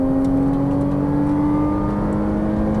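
A Ferrari 458 Italia V8 holds a loud, steady drone from inside the car on the Exotic Racing Las Vegas track, with a sustained engine tone and no talking.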